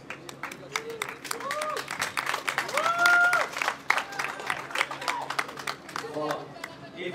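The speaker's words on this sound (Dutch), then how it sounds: "Nog een applaus voor" A crowd claps in a dense burst of applause with some cheering at a Counter-Strike Source tournament prize ceremony, while a voice speaks over it and whistles ring out.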